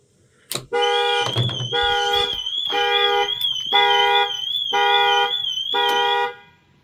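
An alarm fitted to a BYD Shark 6 sounds in repeated bursts of a loud, warbling electronic tone, about five cycles with short gaps, close and clear.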